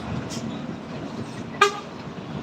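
A bus from the Jabodetabek area climbs the Sitinjau Lauik mountain road amid a low, steady traffic rumble, then gives one short, sharp horn toot partway through.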